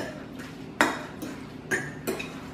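A utensil clinks and scrapes against a dish while tuna is mixed with onion and garlic powder, four or five quick metallic taps spaced irregularly, fairly faint and close.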